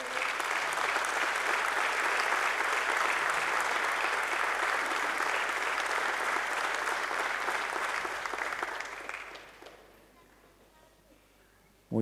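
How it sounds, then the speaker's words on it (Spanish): Applause for a local police inspector at a medal ceremony, a broad sustained round of clapping from a large audience that fades out after about nine seconds into near quiet. "Aplausos, don Salvador."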